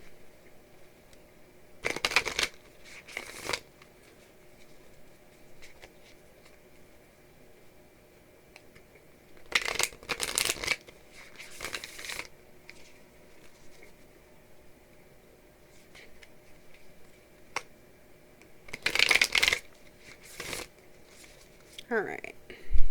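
Quick riffling bursts of tarot cards being shuffled come in three separate clusters, each a couple of seconds long, with quiet pauses between them.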